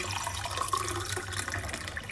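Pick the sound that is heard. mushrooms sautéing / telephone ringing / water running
water running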